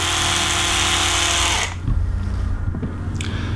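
An electric toothbrush buzzes loudly and steadily for about a second and a half before stopping, leaving faint handling clicks and low background noise.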